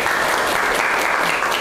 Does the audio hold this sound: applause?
yes